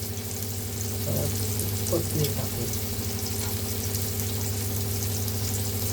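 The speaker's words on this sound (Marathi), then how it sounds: "ही एकीकडे कोलंबी फ्राय होते" Prawns frying in hot oil make a steady, close sizzle with a soft hiss. Faint voices and a low hum sit in the background.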